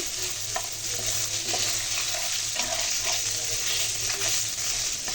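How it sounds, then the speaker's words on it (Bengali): Taki fish, cleaned and set to fry in a home kitchen pan, give a steady, fairly loud broadband sizzle with occasional stirring clicks and a low hum beneath, continuous throughout. "চাকি মাছগুলো ভালো করে পরিষ্কার করে এরপরে এই যে ভাজতে দিয়েছি"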